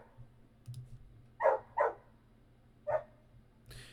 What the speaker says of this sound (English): If you guys hear my dog in the background